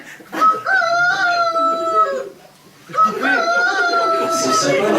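Hypnotized people at a stage hypnosis show imitate a rooster crowing with their voices, two long overlapping cock-a-doodle-doo calls in a row, loud and close in a hall.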